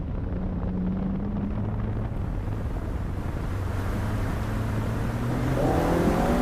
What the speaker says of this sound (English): Little Corolla's sort of on song